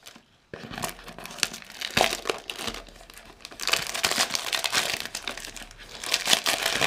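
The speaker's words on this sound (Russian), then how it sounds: "Откроем, посмотрим. Как упакован чай внутри." A package of Kenyan Premium Miras black tea is torn open, crinkling loudly up close in bursts of crisp crackling and rustling wrapper sounds, with no voice over it.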